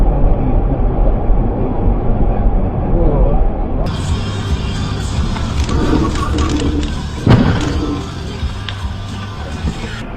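A train in a highway crash compilation, heard as a loud continuous rumble of rail traffic with a sharp impact-like burst partway through, under steady background noise and voices.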